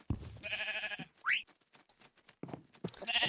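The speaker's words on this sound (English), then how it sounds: "Hello, sheep." Sheep bleating in a blocky video game world, several short nasal bleats, with a rising game blip and more animal calls following, loud and close with no talk.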